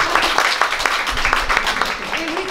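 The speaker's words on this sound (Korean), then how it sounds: "원장님께도 한번 박수" A crowd claps in a dense, steady round of applause, with a voice faintly audible partway through.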